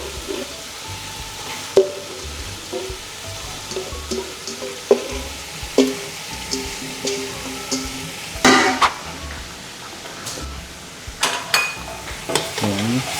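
Chopped bitter melon (ampalaya) is stirred and sautéed in a pan under a low continuous sizzle, with a utensil scraping and clacking against the metal at irregular moments and no talk.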